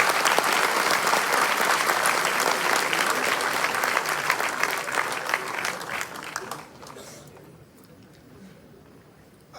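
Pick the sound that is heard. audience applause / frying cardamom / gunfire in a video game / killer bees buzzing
audience applause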